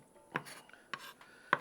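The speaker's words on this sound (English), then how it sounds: "I'm just gonna kind of come in here and just give it a rough chop" A knife rough-chops fresh parsley on a cutting board beside a Blackstone griddle: three crisp, separate strikes spaced about half a second apart, close by and fairly quiet, with no talking.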